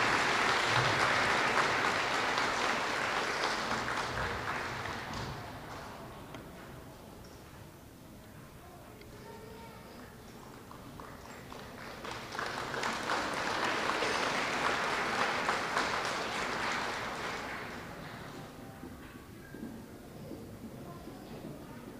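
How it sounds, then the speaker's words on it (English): A round of applause fills a school awards assembly for kindergarten students, dense clapping from the audience swelling loud at the start, easing off midway, then rising again before fading. "Round of applause for our kindergarten students."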